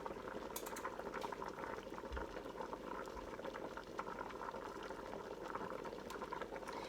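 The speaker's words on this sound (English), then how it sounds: "You can hear it bubbling" Spaghetti and meatballs cooking together in one pot, bubbling at a steady boil with a constant soft churn of small pops and gurgles, faint and close, with a couple of light clicks and no talking.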